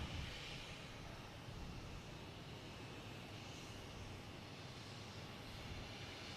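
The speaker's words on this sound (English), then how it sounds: "here's that Delta coming in" A Delta airliner arriving at Boston Logan on a flight from Denver gives a steady, broad engine roar that holds at an even level throughout, with no voices.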